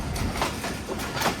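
A passenger train rolling along tracks beside a canal in heavy winter fog, with steady rhythmic clickety-clack of wheels over rail joints heard from inside the coach.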